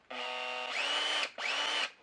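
A Makita LXT cordless drill driver whirs in three short bursts, the first a steady motor whine, the next two rising in pitch as the motor spins up to speed before cutting off, close and clear with no talking.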